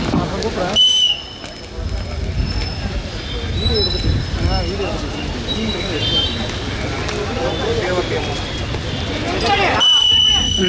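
Referee's whistle at a traditional wrestling match in a noisy arena, sharp shrill blasts at the start and end over steady crowd murmur and announcer talk.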